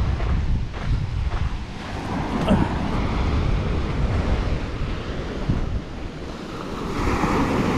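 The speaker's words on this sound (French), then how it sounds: "Il y a des sacrées vagues" Heavy ocean surf pounds Tremblet beach on Réunion, a continuous roar of breaking waves with gusting wind buffeting the microphone and no talk.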